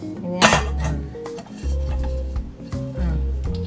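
A lid from a new Saladmaster cookware set clanks onto a pot, with short metallic knocks and scraping rattles close by, and a low hum beneath.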